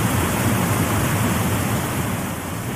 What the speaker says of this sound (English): This is the waterfall sound story.